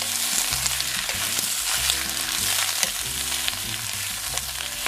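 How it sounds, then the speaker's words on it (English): Bok choy sautés in a pan with a steady, close frying hiss while a utensil stirs it back and forth in repeated scraping strokes. "We're going to stir it back and forth."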